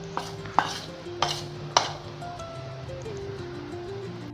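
Kapnya dough ingredients with grated nutmeg are stirred together in a bowl for the Ashadh festival snack, with a few sharp utensil clinks over soft, steady scraping and mixing close by.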